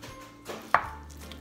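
A knife strikes once through tender crockpot tri-tip cooked in foil, giving a single crisp, quiet chop on a cutting board, with no talking.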